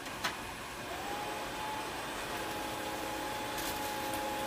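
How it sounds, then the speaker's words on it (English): A vacuum cleaner's powered nozzle runs with a steady, fairly quiet whirring roar while it blows debris back out, with a small knock near the start and no talking. "You can actually see how it's shooting the debris out of the vacuum just with the vacuum motor on the cleaner head."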